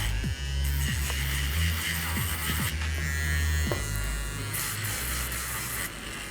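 An electric nail drill fitted with a finer-grit diamond tip files down a dip-powder nail, buzzing steadily up close with a few brief pitch dips as it presses against the nail, alone without speech.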